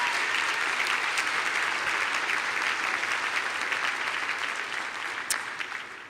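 A commencement audience applauds for honored alumni, a broad, continuous wash of many hands clapping that stays full and even before tapering slightly at the end.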